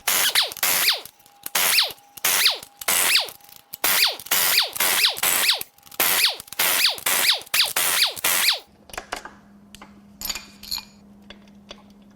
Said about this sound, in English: Now it's time to unbolt the main caps.